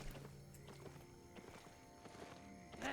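Horse hooves clip-clop in Albion Online, a steady run of soft game footfalls on a low-tier mount, moderately close under a busy layer of ambient game sound with no talk.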